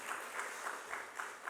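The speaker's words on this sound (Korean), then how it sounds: "이런 박수로 한번 격려해 주시기 바랍니다." A church congregation applauds during a Sunday afternoon service, a soft, steady round of clapping heard from a distance with a faint rhythmic pulse, no talk over it.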